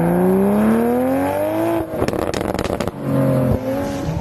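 A motorcycle sound effect in a Filipino radio drama: the engine revs up with a loud, rising whine, breaks into a rough, rattling roar for about a second, then settles back into a steady revving tone.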